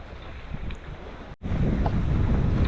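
Steady wind rushing over the microphone aboard a sailboat on open sea, with the wind picking up. A constant buffeting roar breaks off briefly midway, then returns stronger, with no voices.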